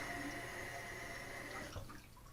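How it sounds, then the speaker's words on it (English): Sink tap water runs steadily over a plastic cutting board during a quick kitchen rinse, a close, continuous splashing stream that cuts off near the end. "Just give this a quick rinse."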